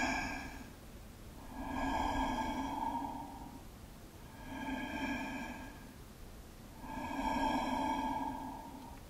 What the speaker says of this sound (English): It's a more controlled breath, and it's harder to do, right?